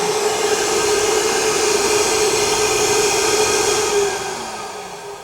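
A powerful 4-horsepower dog grooming blower dryer runs with a loud, steady roaring whoosh and high whine, then winds down and fades near the end.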